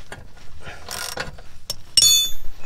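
A ratchet wrench tightening a bolt underneath a Mazda Bongo van, loud and close, with a rapid series of clicking pawl strokes and metallic clinks.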